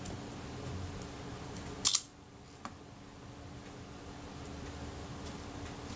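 A single sharp click of a Kodak Retina IIa leaf shutter firing during servicing, crisp and close, followed by a much fainter tick about a second later, with quiet room hiss throughout.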